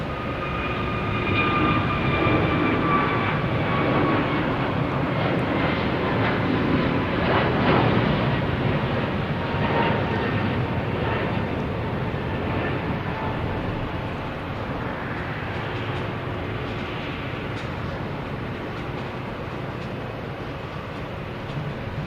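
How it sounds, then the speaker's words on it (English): American Airlines Airbus A321neo departing Boston Logan Airport for Miami, a moderately loud jet engine roar with whining tones that swells and then slowly fades. "There's American Airlines A321neo heading to Miami"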